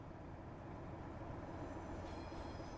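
A simulated Class 47 diesel locomotive passes on the West London Line near Willesden, a low, steady rumble holding at an even level throughout.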